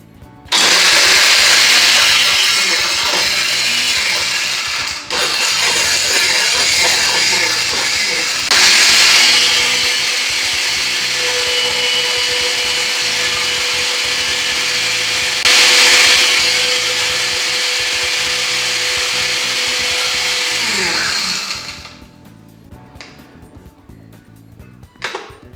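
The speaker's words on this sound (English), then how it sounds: "if you don't want to break your blender, you probably ought to crack these ice cubes first" Loud blender grinding ice cubes for a spicy frozen margarita, running in several long bursts with brief pauses between them, then spinning down to quiet near the end.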